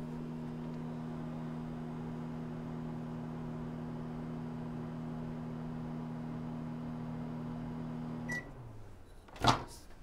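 A microwave oven melting butter hums steadily up close for about eight seconds, then stops, followed by a short beep and a sharp clunk of the door opening.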